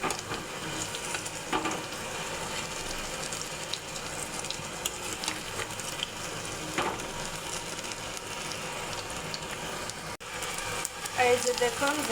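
Turned cabbage rolls keep frying in oil, giving a low continuous sizzle with scattered crackles and a light clatter near the end.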